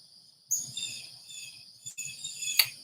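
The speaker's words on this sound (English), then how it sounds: "Wow, birds are loud this morning." Birds sing outdoors in the morning with thin, high chirps and trilling calls that come in a few short phrases over faint background noise. No one speaks.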